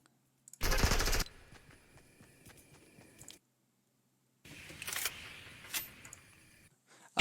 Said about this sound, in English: They started shooting at us after we won.